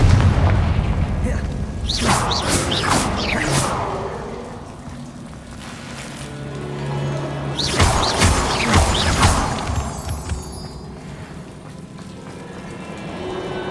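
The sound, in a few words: Confringo blasting spell explosions in Hogwarts Legacy video game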